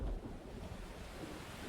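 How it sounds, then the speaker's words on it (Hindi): Heavy rain in a cartoon horror story falls as a dense, steady hiss, loud and close, with no voices over it. "रिक्शा चलने के कुछ ही समय बाद ही तेज बारिश शुरू हो जाती है।"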